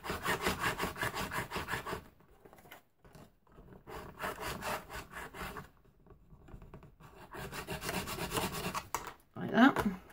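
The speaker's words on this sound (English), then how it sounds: "So we can go ahead and burnish those down now." Paper pieces are burnished down by hand on a sticky-note holder craft, giving bursts of dry scratchy rubbing strokes separated by short pauses, quiet and close.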